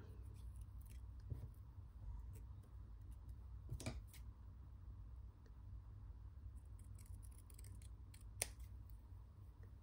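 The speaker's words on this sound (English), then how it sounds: "So I'm just going to trim this down a little bit." Scissors trim a strip of craft paper in a few quiet, separate snips spread over several seconds against a soft background hush.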